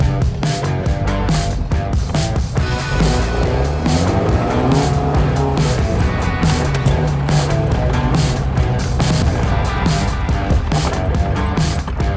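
A light 2,000-pound car with a 96-horsepower engine revs hard and loud as it accelerates, tires squealing and scrabbling throughout with a dense, continuous roar.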